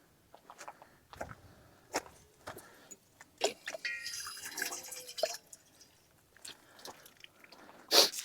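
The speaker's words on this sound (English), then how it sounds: "Get a little water in my frying pan here." Water splashed into a frying pan on a modified rocket stove, a quiet scatter of drips, splashes and faint sizzling crackles, ending in a sharper close splash.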